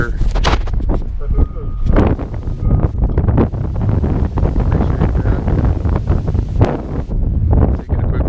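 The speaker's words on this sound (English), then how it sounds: "The higher I get, this wind is definitely becoming stiff" Strong wind roars and buffets the microphone almost continuously during a steep climb to altitude, with a rope trailing loose in the gusts.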